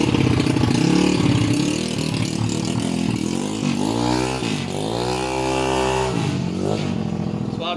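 A Yamaha Aerox scooter with a stage 1 tune runs close by, its engine rising and falling through several revs with a steady harmonic drone that climbs in pitch, loud and alone without talk.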